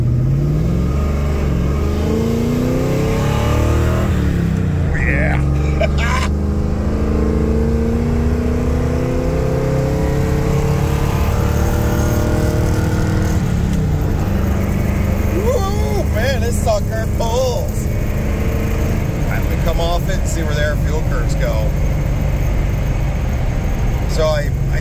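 A Ford 460 V8 with Megasquirt EFI in a flatbed truck revs and pulls under load, its engine note climbing steadily and loud throughout, with a voice speaking briefly over it.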